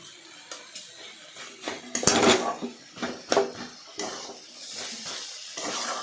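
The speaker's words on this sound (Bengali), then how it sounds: "চিনি দিয়ে নাড়াচাড়া করলাম" Banana stem being stirred with sugar in a pan: close metallic scraping and clinks of a utensil against the pan over a soft background hiss, in uneven strokes.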